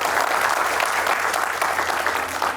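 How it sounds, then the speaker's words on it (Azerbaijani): Studio audience applause greeting actor Samir Ələsgərov on a comedy show, a dense, steady burst of many hands clapping close and loud throughout. "Samir Ələsgərovu gəlin alqışlayaq."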